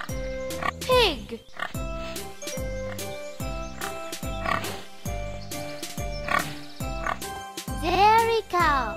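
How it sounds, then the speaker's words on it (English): A pig oinks and squeals in a few short bursts, mixed over a bouncy, looping children's tune with jingling percussion that keeps a regular beat underneath. "Pig."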